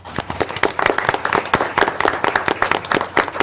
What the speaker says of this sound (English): we'd like to give you all a big round of applause